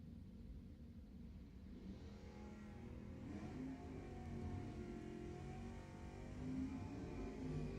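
El Camino and Mustang drag racing cars accelerating down the strip at Lebanon Valley Dragway, a distant engine roar that builds and rumbles steadily, rising in intensity.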